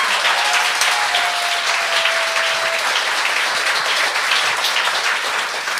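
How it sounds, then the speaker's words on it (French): Loud, sustained applause from a studio audience follows a stand-up act on a comedy talent show, a thick, even wash of clapping that holds steady throughout. "On peut l'applaudir."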